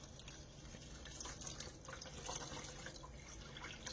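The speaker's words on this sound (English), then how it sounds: "you'll want to just slowly add 2 cups of water" Water slowly poured from a two-cup measure into a pan of cooking orzo and chicken sausage, giving a soft, steady trickle and gentle sizzle that stays close and faint throughout, with no talking.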